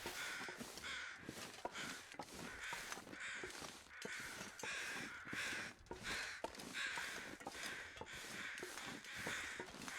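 Crows caw repeatedly in the wilderness of The Long Dark video game, a rapid series of harsh calls at fairly even intervals, faint and somewhat distant, with no speech.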